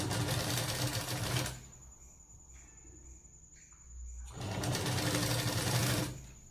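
A sewing machine stitches a blouse sleeve in two loud, steady bursts of fast whirring with a quiet pause between them, and small clicks and a faint whine fill the gap.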